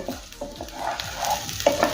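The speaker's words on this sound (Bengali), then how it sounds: "গ্যাসের ফ্লেম হাই রেখে 5 মিনিটের জন্য চালটা ভেজে নেব।" Basmati rice and vegetables with grated ginger are stirred and fried over a high gas flame for vegetable pulao, with a ladle scraping in quick repeated strokes over a crackling sizzle, close and loud.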